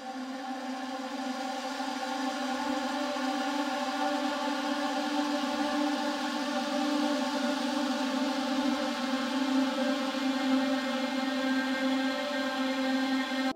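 Epic ambient atmosphere built with granular synthesis, a continuous sustained drone of stacked tones swelling gently and staying steady and fairly loud for the whole stretch, with no voices.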